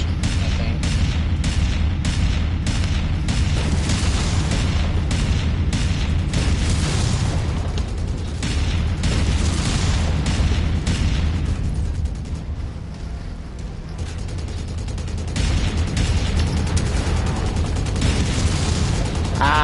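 Missiles explode in Mechwarrior 5 Mercenaries on PS5, a loud and continuous run of booming blasts and crackling bursts over rumbling mech machinery, briefly easing before the barrage resumes, with no talking.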